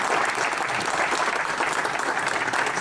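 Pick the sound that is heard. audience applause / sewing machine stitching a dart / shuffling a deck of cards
audience applause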